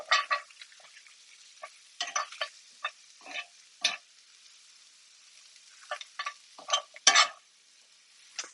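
Butter melting in a hot pan with bits of lamb stuck to it gives a faint sizzle, broken by short, scattered scraping bursts from stirring.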